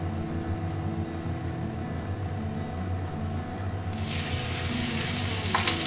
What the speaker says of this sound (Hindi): जैसे ही तेल गरम होता है इसमें हम मिर्च डाल देंगे